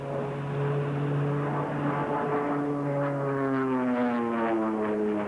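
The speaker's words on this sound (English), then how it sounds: "The OP-10 you see to your left front will make his marking pass now" An OV-10 propeller aircraft drones overhead on a marking pass during a military exercise at Camp Lejeune, North Carolina, a loud continuous engine hum whose pitch slides slowly downward as it passes.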